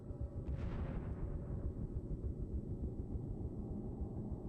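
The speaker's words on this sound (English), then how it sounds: "Two and a half hours later, a small explosion from below." A small underwater explosion near the sunken Kursk submarine: a single muffled thump rises out of a dense, rumbling background, then fades back into the low, churning roar.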